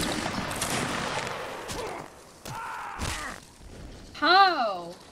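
A historical reenactment infantry regiment, Infantry Regiment Nr. 21, fires a ragged musket volley of several sharp cracks in quick succession, followed by scattered bangs and a brief whistle-like tone near the end.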